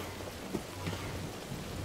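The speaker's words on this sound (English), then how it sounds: "This guy's all climbing and stuff, and it's raining." Steady rain in the video game Star Wars Jedi: Fallen Order, a continuous dense hiss of falling drops, brief and even, with no voices.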